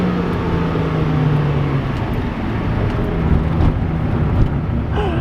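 Datsun 280Z engine, running a little rich, makes a steady, close, loud drone that holds and rises gently while the car pulls, with road noise underneath.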